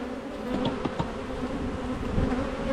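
A dense, steady buzzing of many honey bees in an opened Long Langstroth hive fills the air, close and continuous, with individual insects droning past now and then.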